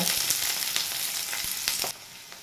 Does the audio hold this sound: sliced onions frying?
yes